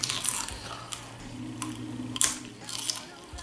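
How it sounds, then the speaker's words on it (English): Raw broccoli being bitten and chewed during a 500 g eating challenge, giving irregular close crunches and squishy chewing noises over a low background hum. "I can't chew through it. I'm gonna break my tooth."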